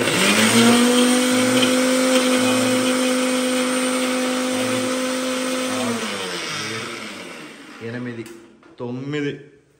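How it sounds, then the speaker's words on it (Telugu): A kitchen mixer grinder blends tomato and tamarind for rasam, a loud steady whine for about six seconds that then winds down and stops, followed by brief clatter of the jar. "ఈ 2-3 రెక్కల చింతపండును కూడా మిక్సీలో వేసేసి ఇది కలిసి కలిపి మిక్సీ పట్టేసుకొని వస్తాను క్షణాల్లో"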